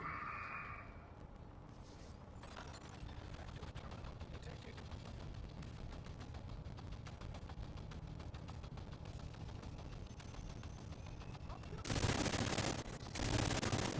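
Video game gunfire from shooting enemies, heard as a dense, continuous rattle with heavier bursts near the end, loud and constant throughout.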